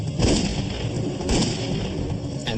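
Gunfire in a dramatized reenactment aboard an airliner, a few sharp loud reports at irregular intervals over a dense rumbling background.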